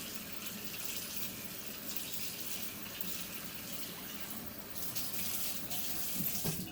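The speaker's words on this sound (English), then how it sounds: "Gonna rinse it clean here." Water runs steadily from a tap as a Norwex netted dish cloth is rinsed clean, producing a soft, even splashing hiss that swells slightly near the end.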